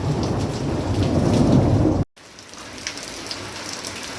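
A thunderstorm directly overhead, with heavy rain hissing and a deep rolling rumble of thunder that cuts off abruptly, leaving steady rainfall behind.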